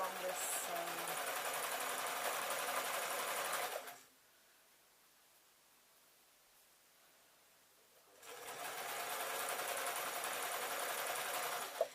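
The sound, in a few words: sewing machine sewing along canvas tote seam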